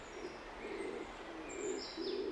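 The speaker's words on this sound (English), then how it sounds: "Bolle's pigeon is no ordinary pigeon." Bolle's pigeon coos in the Canary Islands cloud forest, giving soft repeated low coos at moderate distance, with faint higher bird chirps and whistles in the background.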